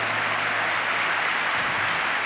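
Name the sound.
audience applause in church gathering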